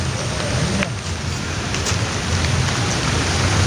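Heavy rain pouring down beside a fishing lake, a dense steady hiss of drops filling the whole stretch, close and constant with faint rumbles underneath.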